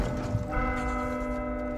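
In the video game Vermintide 2, a church bell tolls once and rings on with a sustained metallic hum that slowly decays, moderately loud amid faint game ambience.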